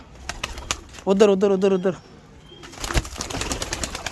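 A pet pigeon gives one close, throaty coo, followed by some brief rustling or wing flutters, while someone talks nearby before and after.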